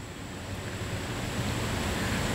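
Sierra Nevada Harvest Single Hop IPA, brewed with Equinox hops, pours into a glass with a steady, close, fizzing rush of liquid that builds slightly louder over a couple of seconds, with no talking.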